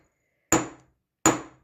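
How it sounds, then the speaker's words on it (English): A hammer is dropped under its own weight onto a wire earring to work-harden it, giving two sharp, close metallic taps about three-quarters of a second apart in otherwise silent surroundings. "I'm just letting the weight of the hammer drop like that."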